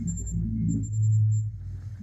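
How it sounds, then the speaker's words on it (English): A REM pod alarm beeps intermittently during a paranormal investigation beside a bloody handprint, its thin electronic tone cutting in and out while a car passes with a swelling low rumble midway. "So you hear the REM pod go off and a car drive by."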